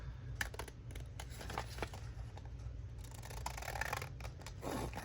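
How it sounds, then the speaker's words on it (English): Scissors snip steadily through paper for a craft journal page, a run of close, dry crunching cuts with faint rustling, no talking. "Let's see if I can cut it remotely straight."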